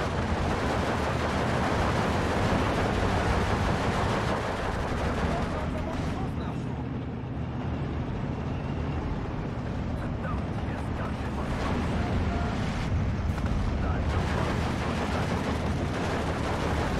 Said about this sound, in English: I'm gonna hit that with some artillery.